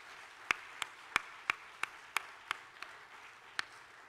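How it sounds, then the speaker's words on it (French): A congregation claps in church during an ordination service, with a few distinct hand claps spaced roughly a third of a second apart over a faint, steady room murmur, fairly soft and distant. "Nous applaudissons Frère Bob tout"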